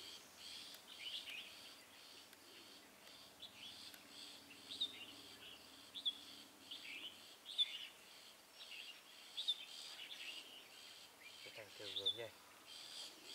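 Faint, scattered calls of a male red-whiskered bulbul, short chirpy phrases repeating every second or two, with soft voices murmuring in the distance.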